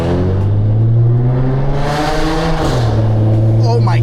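An Audi engine with no resonators revs hard through a loud, droning exhaust near a wall, holding a steady high note before dropping; a voice speaks briefly near the end.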